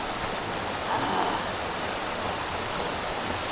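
Steady broadband rush of a waterfall at a remote wild swimming and camping spot, constant and full without breaks, with no voices over it.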